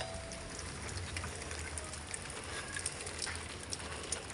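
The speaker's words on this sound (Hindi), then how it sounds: "फिर से बारिश होने लग गई है" Rain falls steadily, a soft, even patter of drops hitting surfaces, faint and continuous with no voices over it.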